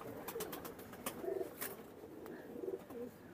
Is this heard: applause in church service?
no